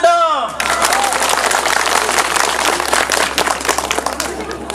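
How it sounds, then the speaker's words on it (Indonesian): Applause from the audience at a Balinese bondres comedy performance at a temple, a dense, lively burst of clapping right after a voice calls for it, with some chatter underneath. "tepuk tangan dong."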